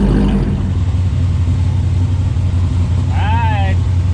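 Engine of a 1968 Chevrolet Camaro race car at an autocross event, a steady loud low rumble running throughout with a brief rising tone near the end.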